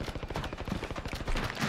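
Rapid bursts of gunfire in the video game Warzone, dense and sharp, crackling steadily from start to finish with no talking.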